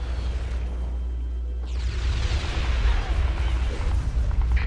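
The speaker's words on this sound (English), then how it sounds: "Initial bombs away." Bombs exploding in the Halo Wars video game: a low rumbling bed gives way to a heavy, sustained burst of blasts and debris noise, loud and close.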